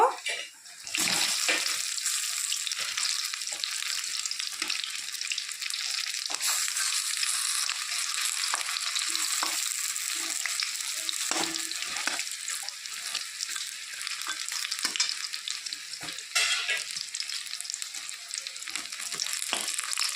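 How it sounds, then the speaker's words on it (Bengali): Prawn-shell fritters crackle and sizzle steadily in hot oil for the whole stretch, a dense close hiss with small spattering pops and occasional stirring, no voices. "দুপাশি লাল লাল করে ভেজে নেব"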